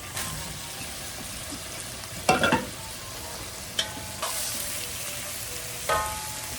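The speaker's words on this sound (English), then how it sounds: "Let's add in all the fried eggplant." Fried eggplant tipped into a hot pan of Malaysian spicy sauce and stirred, a steady sizzle with a few louder scraping stirs and clatters at intervals, no talking.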